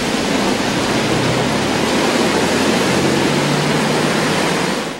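Heavy rain pours steadily in Baguio City with a broad, constant roar, a strong downpour driven by strong wind, filling the whole clip without pause.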